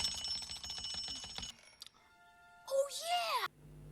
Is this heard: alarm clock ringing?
yes